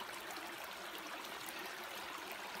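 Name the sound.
rain falling near a creek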